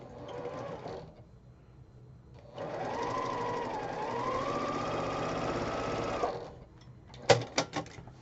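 A sewing machine runs in short bursts: a brief whir, a pause, then a longer steady stitching run, followed by a few sharp clicks.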